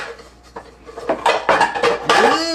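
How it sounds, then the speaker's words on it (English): A new cooking pan being handled in a kitchen, with a run of clattering metallic knocks and scrapes that grow louder and busier, ending in a bright ringing clang, no speech. "I got my new cooking pan"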